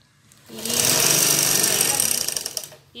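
Sewing machine stitching shalwar fabric, a loud close buzzing run of fast needle strokes lasting about two seconds that fades at the end, with quiet moments before and after.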